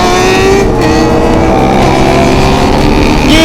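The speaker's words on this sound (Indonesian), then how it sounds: "Gila suara knalpotnya anjir." Kawasaki ZX25R motorcycle exhaust with the silencer removed, roaring loud and close with a continuous high-revving rasp throughout.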